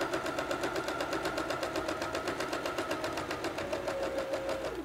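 A sewing machine runs a straight stitch at a 3.5 stitch width, its needle tapping in a fast, even rhythm up close, continuous from start to finish without speech.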